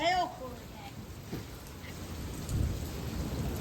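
Rain pours down in the hail core of a thunderstorm, a steady wash of drops with low rumbling thunder swelling toward the end and a brief faint voice-like tone at the start.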